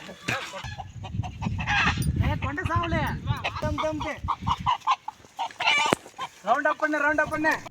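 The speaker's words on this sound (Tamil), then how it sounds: "கோழி பிடிக்க போகிறான்" Chickens cluck and squawk excitedly nearby in the Javadhu Hills as people try to catch one, talking and calling out over the commotion.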